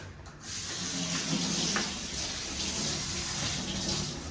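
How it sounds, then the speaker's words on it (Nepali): Water pours steadily from a tap or vessel in a kitchen while pakoras are being cooked, a continuous close splashing rush that starts after a brief pause and runs to the end. "पानी पनि थोरै हाल्छ नि"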